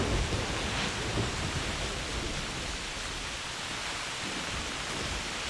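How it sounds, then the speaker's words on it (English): Heavy rain pours steadily in theHunter 2017, a dense, even hiss of broadband noise filling the whole stretch without breaks, loud and close. "I almost want to turn down this rain volume a little bit"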